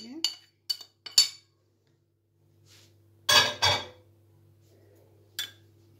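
A spoon stirs chicken kofta mixture with garlic and spices in a bowl, giving a few sharp clinks, then a louder scraping clatter and one last tap, with quiet pauses between.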